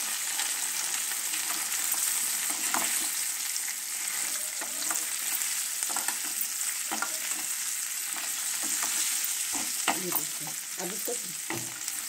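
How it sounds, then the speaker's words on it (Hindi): Boiled taro root (arbi) fries loudly in hot spiced oil, giving a dense, continuous sizzle over twelve seconds, with scattered scrapes and taps of a spoon stirring the pieces in the pan. "इनको हम अच्छे से फ्राई करेंगे।"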